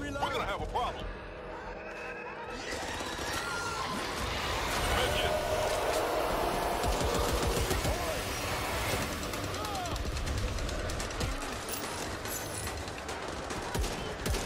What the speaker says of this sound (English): Guys at the diner are already shooting.